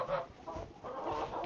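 A big goose in the farming game Joseph's Flock honks and clucks close by in short nasal bursts, with no talk over it.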